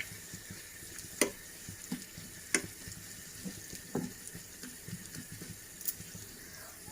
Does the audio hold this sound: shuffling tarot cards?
no